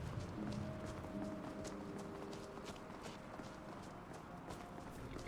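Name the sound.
horse hooves in Skyrim video game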